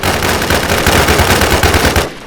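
Rapid loud gunfire from a shotgun in the video game Infestation, a dense continuous burst of close shots that cuts off abruptly near the end, with no talk.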